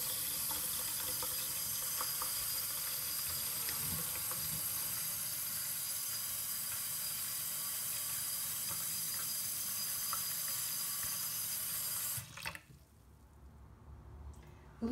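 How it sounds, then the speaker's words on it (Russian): Warm water runs from a kitchen tap into a bowl of washed lentils in a steady, close hiss that stops abruptly near the end, leaving quiet room tone. "В миску с помытой чечевицей наберем теплой воды из-под крана"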